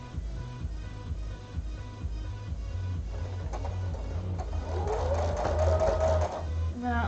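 A sewing machine runs steadily, stitching a seam on fabric with scalloped edges. Its rapid mechanical whir and needle clatter stay close and constant throughout, while someone talks over it.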